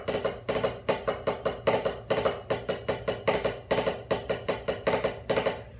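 Right-hand diddles on a snare drum, played as a steady run of quick paired strokes with the rhythm bunched too tightly, crisp and close with no voices.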